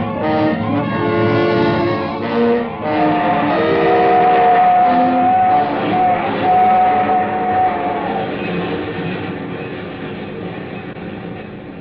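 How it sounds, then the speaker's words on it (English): A train rumbles past loudly and close, with sustained horn or whistle tones sounding over the steady roll of the cars, then slowly fades toward the end, played as a sound effect in a 1946 radio suspense drama. "The train was gone"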